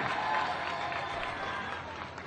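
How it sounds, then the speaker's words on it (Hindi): Audience clapping after a politician's speech celebrating India's Chandrayaan-3 moon landing, a short burst of crowd applause at moderate level that tapers off. "एक बार जोरदार ताली बजा दो सारे जने"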